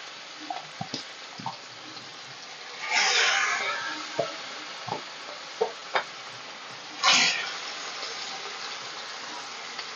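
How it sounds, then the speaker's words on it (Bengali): Small chela fish frying in mustard oil, a low steady sizzle with two louder hissing surges and scattered clinks and taps from a utensil nearby. "আমি এবার এর ভিতরে মাছগুলোকে দিয়ে দেব ভাজার জন্য।"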